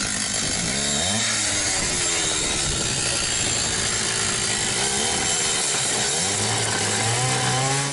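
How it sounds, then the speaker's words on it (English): Saw cutting through rotten but still sturdy wood beside a vehicle's driver's cabin, a loud, steady, continuous rasping drone with slight changes in pitch and no voices. "He's sawing like this."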